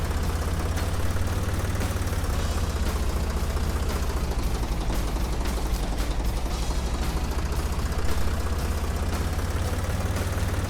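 Tractor engine in the Professional Farmer 2014 farming game, running steadily while plowing: a continuous heavy low drone with a faint mechanical rattle, holding an even level throughout with no talk.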